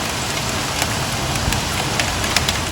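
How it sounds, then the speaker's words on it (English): Rain falls steadily from a thunder, lightning and hailstorm in Buffalo. The hiss is dense and continuous with scattered pattering drop hits, close and fairly loud. No thunder stands out. "a thunder, lightning, and hailstorm hit Buffalo"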